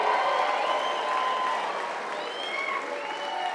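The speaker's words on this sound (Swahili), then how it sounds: "Nataka tusimame na tumpigie makofi" Audience applause at a Kenyan political gathering, a dense, steady wash of clapping from a large crowd that holds throughout, with faint cheering and voices mixed in.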